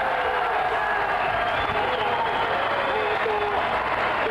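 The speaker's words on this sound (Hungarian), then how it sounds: "A közönség tombol" A crowd at a 2019 powerlifting world championship in Esztergom roars with steady, dense cheering and applause after a world-record lift, a continuous loud wash of voices and clapping with a commentator talking over it.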